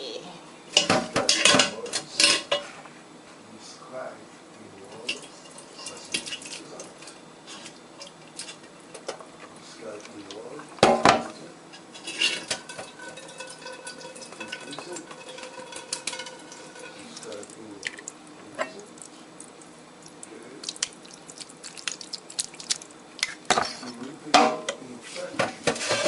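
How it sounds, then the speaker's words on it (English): Cooked chayote being drained in a pot, giving a string of clattering metal knocks and scrapes of pot and lid with some watery sounds, loud bangs near 1, 11 and 25 seconds, fairly close with no talking. "So now I'm gonna drain the excess water from this."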